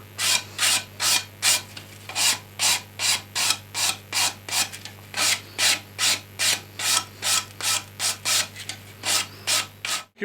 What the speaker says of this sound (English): So just one or two strokes with a 360 grit, just ever so lightly soften them